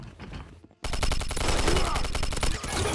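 Rapid automatic gunfire in the video game Quantum of Solace, loud and sustained in dense bursts after a brief quiet moment, with faint speech mixed underneath.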